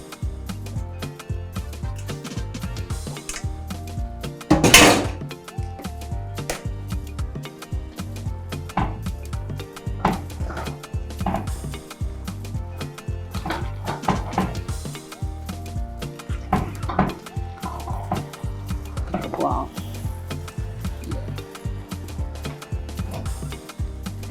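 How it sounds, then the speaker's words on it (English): Wet, sticky squelching and soft clinks of spaghetti being tossed with meatballs and sauce in a bowl, an irregular run of close stirring sounds with a sharper knock partway through. "So I will add my spaghetti into the bowl now and mix it together"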